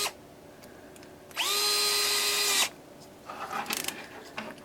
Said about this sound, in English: I'm going to use my power screwdriver because it's a lot faster